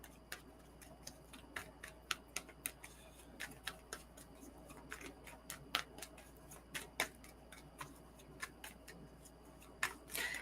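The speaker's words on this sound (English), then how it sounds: "So I'm going to cleanse these cards and start shuffling for you, Harmony." Quiet, close tarot cards being shuffled, giving a string of crisp irregular flicks and taps over a near-silent room with no talk.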